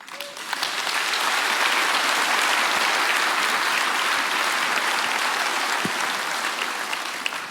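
A large fundraiser audience gives Dr. Gabor Maté a sustained round of applause: dense, steady clapping that holds at an even loudness throughout, with no speech over it.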